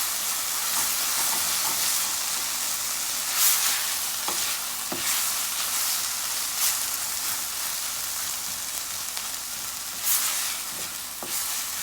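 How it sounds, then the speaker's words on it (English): Tomato paste gets stirred into a frying stew base for a trout fish stew, with a bright, continuous sizzle and hiss and a few occasional scrapes of a spoon in the pot, close and without speech. "And I'm gonna give this a stir."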